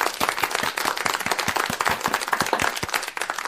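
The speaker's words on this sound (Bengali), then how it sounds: "মিঠির জন্য জোরে একটা হাততালি দাও" A group claps loudly for a young girl's clay art at home. The applause comes as dense, rapid, overlapping claps that continue without a break, and no one speaks over it.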